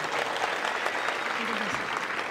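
Audience applause, a short, steady burst of many hands clapping with a faint voice-like murmur underneath.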